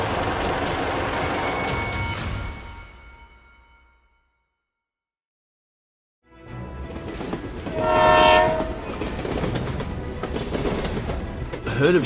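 A loud train rumbles past, fades away into silence, then another approaches with a blaring horn blast near the middle, rail noise continuing.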